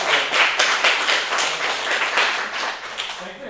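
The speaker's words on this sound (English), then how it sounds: "Let's give a round of applause for the purple stop." Audience applause at a NES ROM hacking workshop, a dense wash of many hands clapping steadily for about three and a half seconds, loud and close, then tapering slightly at the end.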